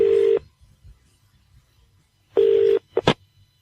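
Touch-tone dialing of a telephone number: two sustained beeps separated by a pause, followed by a quick pair of short tones. The tones are clear and close, with no talking.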